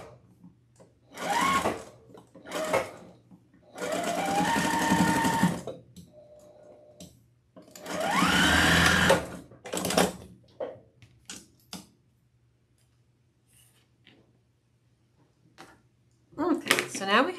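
A sewing machine runs decorative stitches on fabric pieces for a sewn peacock wreath decoration, whirring in several short, close bursts separated by quiet pauses and faint handling noises.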